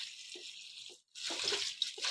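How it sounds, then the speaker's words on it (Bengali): Leafy greens being washed in water, sand rinsed off by hand: splashing and sloshing at low level, broken by a brief pause before the swishing resumes more fully, with no one speaking. "বেশি শাকটি ধুয়ে দেবো"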